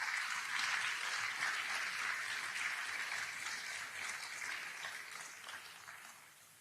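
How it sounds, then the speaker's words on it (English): An audience at a 2021 State of the City address breaks into sustained applause, a dense steady clapping that holds for several seconds and then tapers slightly. "Now let's applaud for that."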